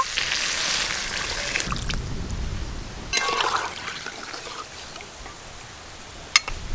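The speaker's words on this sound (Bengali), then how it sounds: "জল দিয়ে দেব।" Water hits a hot pan of frying potatoes and eggplant with a sharp hiss and sizzle, then settles into a steady bubbling trickle at close range, with a few clinks near the end.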